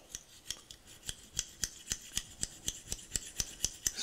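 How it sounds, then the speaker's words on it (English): Drill bit scraping old, degraded flint out of the tube of a vintage petrol lighter insert, a faint, steady rhythmic rasping, about four strokes per second, heard alone. "Bounce that back and forth, trying to scrape any residual concreted or dusted flint"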